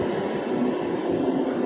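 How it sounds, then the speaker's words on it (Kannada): A Bangalore purple line metro train moves along a station platform, a loud, steady rumble of rolling carriages that holds for nearly two seconds, close by and with no talk. "ಆ ಕಡೆ ಇದೆ ನೋಡಿ, ಅದು ಪರ್ಪಲ್ ಲೈನು ಮೆಟ್ರೋ. ಇವಾಗ ಜಸ್ಟ್ ಬಂದು ಇವಾಗ ನೋಡಿರಿ ಮೂವ್ ಆಗುತ್ತೆ."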